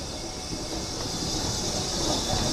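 Fowler 3F tank steam locomotive 47279 running on the Keighley and Worth Valley Railway, heard as a steady, loud broadband rumble and hiss with no distinct beats, continuous and unvarying throughout.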